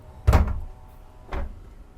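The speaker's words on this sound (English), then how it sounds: "Door slides so easily." A sliding door on a Westport 112 superyacht slides and bumps shut with a soft thud, followed a second later by a quieter second slide.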